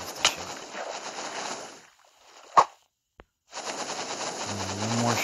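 Gunfire in a video game: a few sharp shots crack out over a steady rumbling game soundscape, with a quiet gap before the background ambience and a low tone return.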